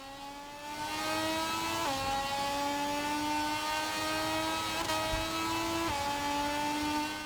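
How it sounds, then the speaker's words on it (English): A Moto2 racing motorcycle engine in the MotoGP 25 video game screams loudly and steadily at high revs, its pitch climbing and then dropping sharply at several gear shifts, with no voices. "we had a little bike engine murmur down the straight there"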